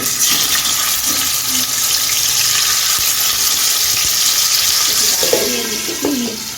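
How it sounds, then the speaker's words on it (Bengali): Aar fish frying in hot white oil in a non-stick pan, giving a loud, steady, close sizzle and crackle that runs unbroken throughout with no talking. "এখন আমি মাছগুলো ভেজে নিব"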